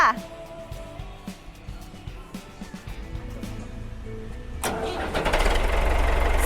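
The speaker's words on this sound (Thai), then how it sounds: "เสียงเครื่องนิ่มๆ เพราะๆนี่คือเครื่องเดิมๆ นะคะ" An old Ford 6610 tractor engine cranks over with faint clicks and rattles, then catches at about four and a half seconds and settles into a loud, steady diesel running close by.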